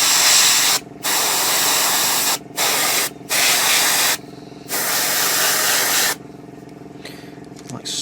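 Aerosol varnish sprays onto a 1/35 scale Centurion Mk10 tank model in several loud, close hissing bursts of one to two seconds each, separated by brief silent gaps.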